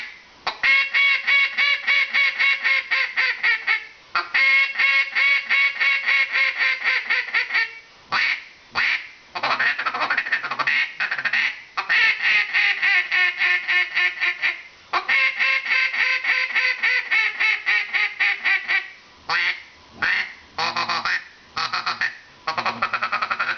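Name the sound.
duck call blown to imitate duck quacks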